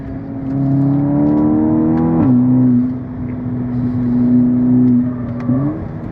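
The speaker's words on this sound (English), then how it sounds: "The exhaust sounds phenomenal as well." A VW Golf GTI TCR or Seat Leon Cupra 280 hatchback on Cup 2 tyres pulls hard under acceleration, its exhaust droning loudly and rising in pitch, with a brief drop at a gear change before it climbs again.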